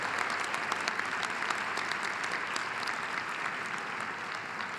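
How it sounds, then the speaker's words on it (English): Graduation convocation audience at a School of Education ceremony claps in a thick, sustained wash of applause, steady and fairly loud with no voices over it. "Let's give the parents, grandparents, and your family a big round of applause."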